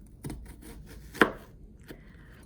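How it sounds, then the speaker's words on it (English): A knife chops through an onion on a cutting board, making a few separate crisp cuts with one louder knock near the middle, close and quiet, and no voices. "Now the next thing I'm going to do with my onion is I want a small diced onion"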